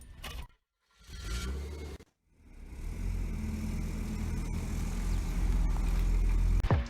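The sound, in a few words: car engine running during test drive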